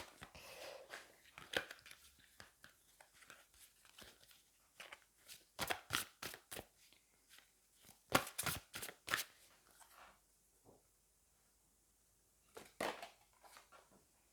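Angel oracle cards being shuffled by hand, a run of crisp riffling bursts and soft slaps in short clusters, close and fairly quiet, with no one talking.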